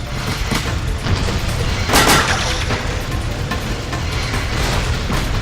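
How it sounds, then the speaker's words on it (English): Heavy gunfire in a city battle in the action game Jak II, heard as a dense, steady roar of overlapping shots and blasts with a slightly sharper surge partway through. No voices rise above the din. "We're taking heavy fire!"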